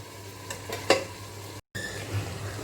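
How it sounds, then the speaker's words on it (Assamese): Chicken pieces being stir-fried with masala for an Assamese chicken curry, a faint steady sizzle with a few utensil scrapes and clinks against the pan. "এতিয়া আৰু 3 মিনিটমানৰ কাৰণে চিকেনখিনি এনেদৰে মছলাৰ সৈতে আৰু এবাৰ ভাজি দিম"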